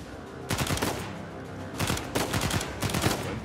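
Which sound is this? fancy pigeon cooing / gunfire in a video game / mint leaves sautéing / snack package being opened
gunfire in a video game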